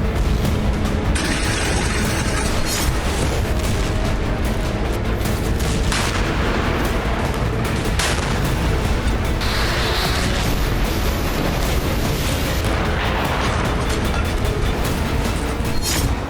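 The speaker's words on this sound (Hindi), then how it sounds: "रूसी फौज को आर्टिलरी से कवर फायर मिल रही है" Continuous barrage of artillery fire and explosions in the Russia–Ukraine war, loud and dense with repeated booms and bursts layered over a constant rumble, no voices.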